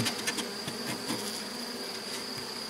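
Honeybees buzz steadily at an opened Miniplus hive during a colony inspection and transfer, a dense, continuous hum with individual bees droning close by and no voices.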